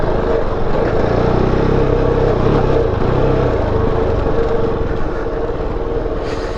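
KOVE 450 Rally motorcycle engine running loud and steady on an enduro track, a constant close drone with slight rises in revs throughout, no voices.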